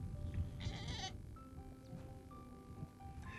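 Goats and sheep bleating in Iruya, an Andean village in Argentina: a fairly faint bleat near the start, then scattered thin calls over a steady outdoor background.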